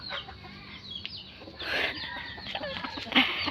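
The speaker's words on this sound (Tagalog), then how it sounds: "Manok ni papa mo." Chickens clucking nearby on a farm with chicks around, several short clucks and a louder squawk over soft background noise.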